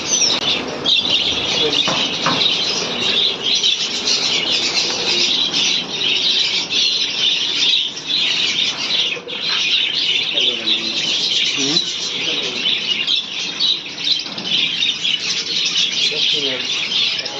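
Dense, continuous chirping and twittering from a large flock of budgerigars at a breeding farm, loud and close, with faint voices talking underneath.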